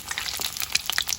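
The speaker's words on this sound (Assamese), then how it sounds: "এয়া কণী ভাজি আছোঁ আঞ্জা বনাবৰ কাৰণে" Eggs sizzle in a hot pan before going into an egg curry, a crackling, spitting fry with sharp pops scattered through a steady hiss, close and fairly loud, with no voices.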